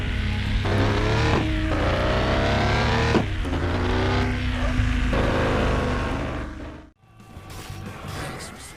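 A car engine in a mobile driving video game revs hard and loud in repeated rising surges with gear shifts, then cuts out abruptly before a brief burst of roaring motor resumes.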